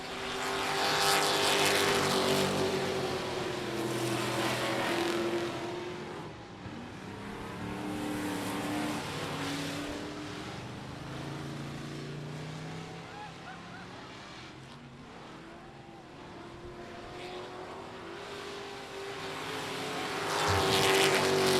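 Race trucks roar around the I-37 Speedway oval, engines droning loud and continuous with a pack of several trucks close behind the leader, swelling as they pass near, under a race announcer's voice.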